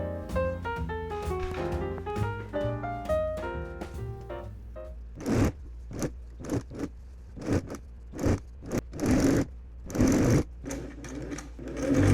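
A sewing machine runs in short bursts of stitching, stopping and starting several times after a brief stretch of melodic music.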